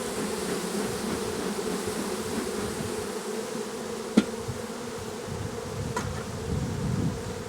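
Honey bees buzz at a hive heavy with propolis, a constant close drone with a couple of sharp clicks and no talking.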